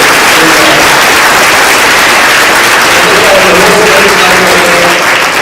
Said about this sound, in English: Let's have a round of applause for the Wildlife World Zoo.